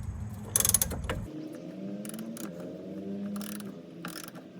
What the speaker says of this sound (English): So now I'm counter holding with a 17mm flat wrench because it was counter spinning.